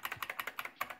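A Unicomp Classic 104-key buckling spring keyboard from late 2016 being typed on, a quick run of sharp, loud clicky keystrokes close by with no voices.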